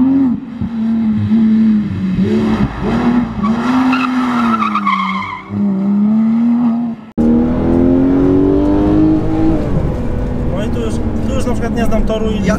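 A Porsche 911 GT3 slides sideways around a race track, its engine droning and revving with loud, sustained tire squeal and skidding, while people talk over it inside the car.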